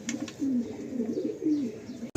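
Pigeon cooing in a loft, several soft low rolling coos in quick succession, close and fairly quiet, ending with a brief loud knock.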